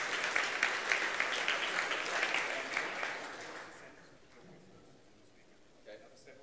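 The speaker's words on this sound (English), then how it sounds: "another round of applause for the CRAN team" Applause from a conference keynote audience rings out for about three seconds, then fades away into quiet room noise.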